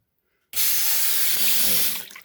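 Water gushes from a Xiaomi Xiaoda automatic sensor faucet head, starting abruptly as a loud, steady hissing stream, then tapering off at the end.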